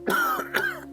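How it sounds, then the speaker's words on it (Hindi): An old man gives a short, raspy cough in two quick throaty bursts, close and clear, alone. "बूढ़े ने खांसते हुए पूछा।"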